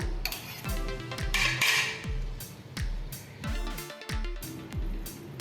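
Utensils scraping and knocking against a pan while milk pudding made with toast and milk is stirred, with red colouring and cardamom powder; repeated close metallic clinks and scrapes in a steady stirring rhythm, no talking.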